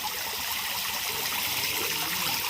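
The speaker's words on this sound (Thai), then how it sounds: "ทำไมเราจึงอยากจะทำบ่อน้ำพุ บ่อน้ำตกอยู่ตรงหน้าบ้านใกล้ๆนี้" Water trickles and splashes steadily from a garden fountain and waterfall pond in front of a house. The flow makes a constant, close, fairly loud wash with no voices.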